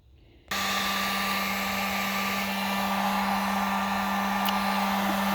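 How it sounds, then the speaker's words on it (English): A heat gun switches on abruptly and runs with a steady, loud whirring hiss and constant hum while warming a gyrocopter surface to prepare it for bonding an anti-scratch rubber strip. "we'll achieve that with our heat gun"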